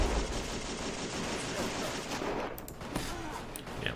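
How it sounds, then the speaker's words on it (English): Machine gun fire crackles through a World War One urban battle in the game Battle of Empires 1914-1918, dense rapid shots over a constant rumbling din, with scattered sharper reports toward the end. "At least we're returning fire with the machine gun."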